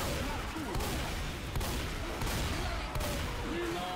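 Rapid continuous gunfire from an automatic weapon in Left 4 Dead 2, a dense unbroken rattle of shots with occasional sharper cracks, fairly loud and steady throughout.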